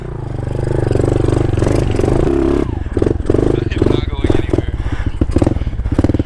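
A motorcycle engine revs and labours up an icy hill, loud and close, its steady drone breaking into choppy throttle bursts as gears strain, with a rider talking over it.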